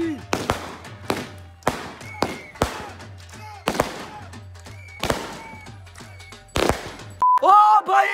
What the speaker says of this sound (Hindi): इसमें 16 शॉट्स से जो ऊपर जाके फटेंगे